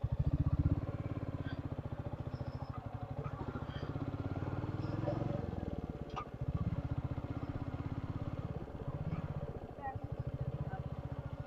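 A motorcycle rides up a hill road toward the Jayanti Mata temple in Kangra, its engine chugging steadily and close throughout, with brief dips as the throttle eases and people talking over it.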